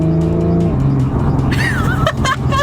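A Stage 1 BMW M135i accelerates hard, its engine droning loudly and close before a sharp rise in pitch and high-pitched tire squeal near the end.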